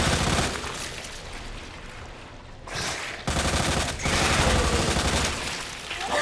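Loud, rapid gunfire in a sewer fight in Resident Evil 2 crackles almost continuously, with a short lull before more bursts. No one talks.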